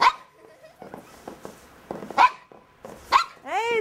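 A sled dog out in the snow gives several sharp barks spaced a second or so apart, ending in a drawn-out whine, with faint yips and a quiet voice between the barks.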